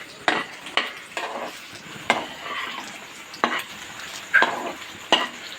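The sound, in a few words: stirring paneer in caramelizing sugar in a pan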